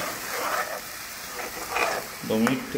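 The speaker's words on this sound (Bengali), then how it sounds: "এটাকে 2 মিনিটের মতন নাড়িয়ে নেব মিন্ট চাটনিটাকে।" Mint chutney stirred as it fries in a pan for a dry potato dish: a steady close sizzle with soft scraping stir strokes and a louder clatter near the end.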